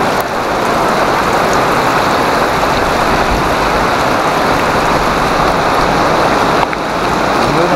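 Heavy rain pours steadily at an outdoor Dhammachakra Pravartan Day gathering at Dikshabhoomi in Nagpur, a dense, loud, continuous wash of drops on surfaces with no talk over it.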